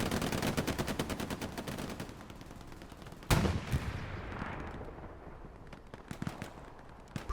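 A machine gun fires in Hell Let Loose, a World War II shooter, with a long rapid rattle of shots, then a sharp louder blast followed by scattered distant gunfire.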